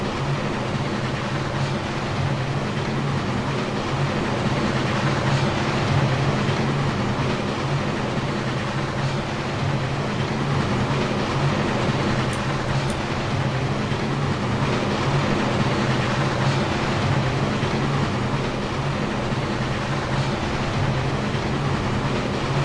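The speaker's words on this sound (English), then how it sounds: "The subway." A subway train rumbles through a video game city map, a continuous loud low rolling drone with rail clatter sustained throughout, no voices.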